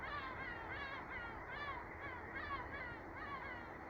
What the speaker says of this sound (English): There's some geese coming over.